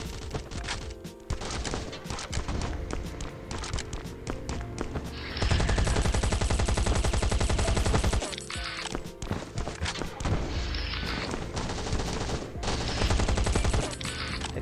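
Dense bursts of rapid gunfire and blasts from a video game, loud and continuous, with a heavier sustained barrage in the middle.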